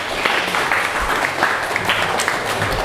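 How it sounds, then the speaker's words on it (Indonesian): Students at a Ramadan welcome gathering at a high school give a round of applause, a dense, even wash of clapping from a crowded room, loud and continuous throughout. "Tepuk tangan untuk keberaniannya."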